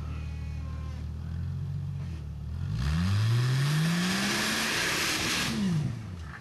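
Hill climb car at Snowshoe, West Virginia, engine revving hard under load, the pitch sweeping up through a long aggressive pull then dropping and climbing again, loud and close.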